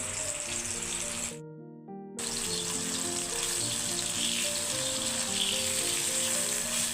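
Vegetables frying lightly in a pan, a loud steady sizzle with a hum underneath, briefly dropping out for under a second before resuming at full strength, close and without talk.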